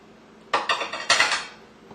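Veggies, shrimp and spam are tossed together in a bowl for Chamorro shrimp patties, producing a few close clinks and scrapes of a utensil against the bowl in two short bursts.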